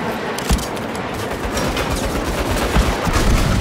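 Dense, continuous gunfire and explosive bursts from a Saints Row game airstrike, loud and close, with sharp impacts standing out over an unbroken barrage.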